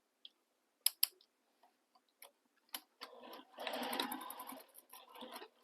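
Home sewing machine stitching a seam on a fabric stocking, heard as scattered clicks and short taps before a sustained mechanical whir of stitching in the second half, close and moderately loud.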